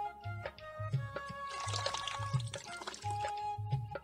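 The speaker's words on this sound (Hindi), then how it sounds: "कुछ पानी डाल के पैर साफ करो" Water poured over a groom's feet during an Indian wedding ritual, a soft trickling splash and drip heard over steady background music.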